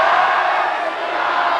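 A crowd gathered at a school's annual cultural function raises a loud, sustained chant to Lord Ram, many voices blending into one continuous roar.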